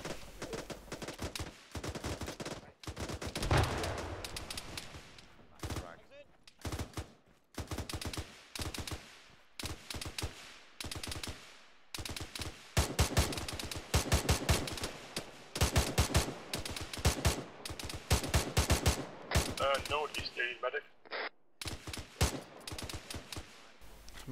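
Dense, sustained small-arms and machine-gun fire in the ArmA 3 battle for COP Verón, with rapid bursts and single shots crowding one another across the whole stretch, some near and sharp, others softer and more distant.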